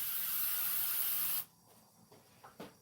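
An aerosol spray can hisses loudly and steadily for about a second and a half, then cuts off, leaving a few faint knocks, in a workshop where doors are being built and sanded.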